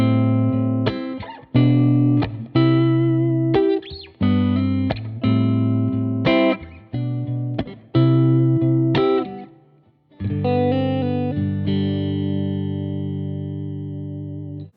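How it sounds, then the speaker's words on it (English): Electric guitar through a Line 6 Dynamic Hall reverb, with a series of played notes and chords whose long, smooth hall tails bloom and ring out, the last chord sustaining and fading alone. "So right now there are no wet effects on except for this hall reverb."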